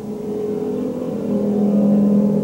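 Stock race cars thunder around an oval track in a 1992 Gasport race, a steady loud engine drone that swells toward the end as cars pass close.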